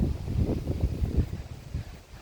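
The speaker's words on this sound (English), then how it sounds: "And it's kind of windy. There's nice breeze going on." Gusty wind at a canvas tent campsite rumbles against the microphone in low, uneven buffets, with no voices present.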